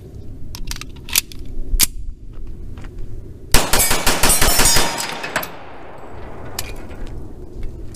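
A 1911 pistol fires a rapid string of rounds from an 8-round Mec Gar magazine at a range, loud sharp shots bunched in a quick burst, with scattered clicks and metallic clinks before and after.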